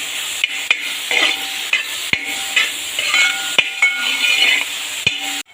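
Jackfruit pieces sautéing in ghee for chakka payasam give a continuous close sizzle, broken by repeated sharp clinks and scrapes of a spoon stirring against the pan, with no voices.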